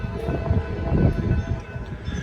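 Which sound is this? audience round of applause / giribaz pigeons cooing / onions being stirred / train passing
train passing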